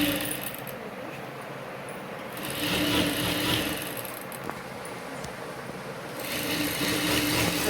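A sewing machine stitching cloth for a Vinayagar idol's dress runs in a close, steady whirring hum, with short pauses and restarts between bursts of stitching and no talk.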